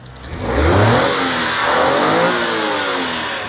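A Suzuki R06A DVT 12-valve engine revs up loudly nearby, then holds a high, steady drone with a slowly rising and falling pitch.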